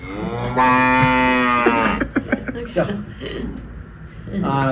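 A cow moos loudly and close by on a hilltop farm, one long drawn-out low call, then people talk nearby.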